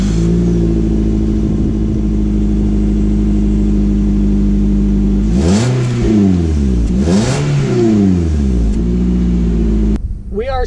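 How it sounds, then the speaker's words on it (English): A 2019 Nissan Rogue SUV on a test drive, its engine droning steadily from inside the cabin, then rising and falling through two strong revving sweeps before cutting off near the end. "let's take the 2019 Nissan Rogue out for a test drive just to see how this new Rogue"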